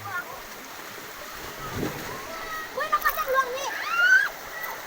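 Children splash and play in the water at a waterfall in a natural setting, with light splashes under a steady rush of falling water, while voices and shouts carry across the scene.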